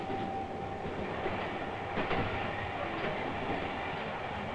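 A Moscow subway train, on a network first opened in 1935, runs steadily with a continuous rumble and faint clickety-clack of wheels on rails, a couple of brief knocks rising over the even roar.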